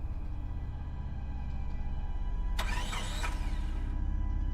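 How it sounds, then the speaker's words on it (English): A car engine cranks over a steady low hum in a scary animated story, a brief grinding whir that fails to catch, then the hum continues. "I turned the key and my heart sank as the engine failed to start."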